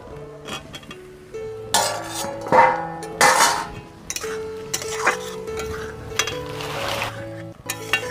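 Coconut milk is poured into a spiced pan of potatoes for Bengali aloo dum, with clinking utensils, scraping stirs and metal knocks against steady sizzling.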